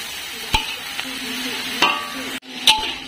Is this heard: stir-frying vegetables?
yes